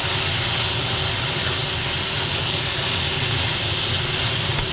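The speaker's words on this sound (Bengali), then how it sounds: "আদাও একসঙ্গে ভেজে নিচ্ছি আলুর সঙ্গে" Ginger frying with potatoes in a pan for an aubergine kofta curry, giving a steady, loud hiss of sizzling oil that holds evenly throughout with no talk.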